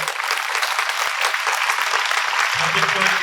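A crowd claps loudly and steadily at a public gathering, a dense, even wash of applause with a voice briefly audible near the end.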